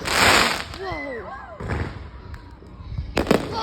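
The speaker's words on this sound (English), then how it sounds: "I was just about to give up trying to record fireworks." Fourth of July fireworks go off with sharp bangs, the loudest near the start and another cluster near the end, while whistling trails rise in between and excited voices react.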